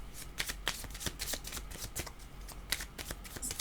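Tarot cards being shuffled by hand in a quiet room, a steady run of crisp riffling flicks and slaps at close range, with no talking over it.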